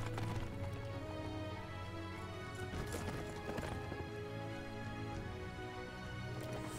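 Cavalry horses gallop in Dynasty Warriors 8 with a rapid, continuous clatter of hooves under a background of battle music, plus a few sharper crashing impacts.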